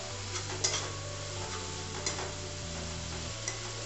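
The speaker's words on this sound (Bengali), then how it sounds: "এই যে এখন মশলাটা কষানো হচ্ছে" Masala sautéed and stirred in a rather worn kadai, with a steady low sizzle and a few sharp scrapes and clinks of the spatula against the pan; no one speaks.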